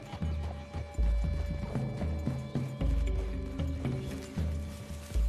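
Horse hooves clip-clop at a steady walking rhythm in Red Dead Redemption 2, close and fairly loud, with faint tack or gear clinks and no speech.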